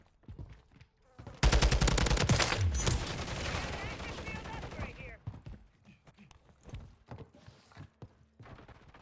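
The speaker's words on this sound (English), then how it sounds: "They were shooting at each other." Rapid gunfire bursts in Call of Duty: Modern Warfare 3 erupt loud and dense after a quiet start, with sustained automatic fire and shots trailing off into scattered quieter pops and game noise.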